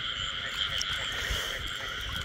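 A large female frog croaks while being held in a paddy field at night, a steady continuous calling texture at close range with no talk over it.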